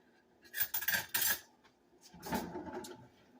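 A metal spoon clinks and scrapes against dishes while hot bread pudding is served, in two quick clusters of close, bright chinks separated by a short pause.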